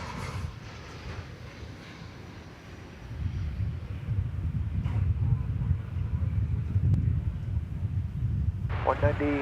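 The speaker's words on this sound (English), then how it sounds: "there's the tail end of a Frontier flight arrival" Frontier airliner arriving at DFW Airport, a low, distant engine roar that swells midway and stays broad and rumbling, with wind buffeting and a brief sharp noise near the end.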